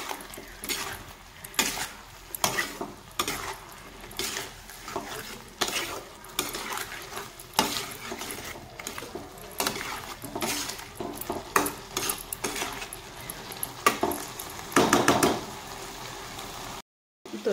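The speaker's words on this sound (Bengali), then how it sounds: "মশলাটাকে আমি ভালোভাবে কষিয়ে নিব সবজির সাথে।" Spices fried and stirred with cauliflower and potato in a pan make a long stretch of repeated scraping and clinking stirs over a continuous low sizzle, close by and busy throughout.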